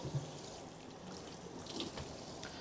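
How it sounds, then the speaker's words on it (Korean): Running tap water at a kitchen sink as vegetables are rinsed one by one, a steady, soft wash of flowing water with faint handling sounds, no voices. "개수대에서 야채를 하나씩 씻어줄게요."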